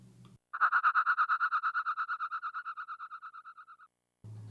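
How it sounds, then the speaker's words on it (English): A squeaky synth tone with tremolo, fast regular pulses that slowly weaken and fade out over about three seconds, resembling car tires squealing under hard braking, heard alone between brief bits of talk. "It's almost like a car tires when you brake really fast."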